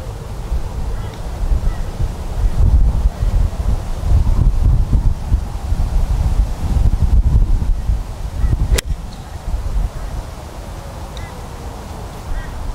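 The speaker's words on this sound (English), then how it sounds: "Very strong, probably 40 kilometer an hour left to right wind here" Strong left-to-right wind of around 40 km/h sweeping a golf course, a loud steady rumbling buffet that gusts up and down throughout, with a brief sharp tick near the end.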